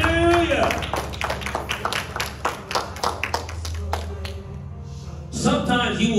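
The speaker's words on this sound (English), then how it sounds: "Give God a hand clap." A church congregation claps hands together in a quick, rhythmic run of sharp claps, loud and close, while a preacher's voice carries over the beat, ending as the clapping fades into speech.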